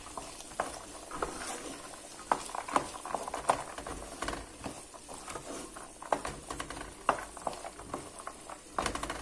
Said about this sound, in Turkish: Şimdi de sıra geldi barbunyalarımızı koymaya. Biraz kavuruyorum.